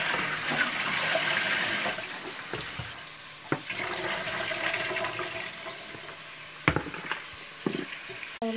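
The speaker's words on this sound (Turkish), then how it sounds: "Sonra ayarladığımız karnabaharımızı birkaç defa yıkıyoruz." Cauliflower is rinsed under running tap water in a home kitchen: a steady, close splashing gush with a few sharp clatters of the florets and bowl, and no voices.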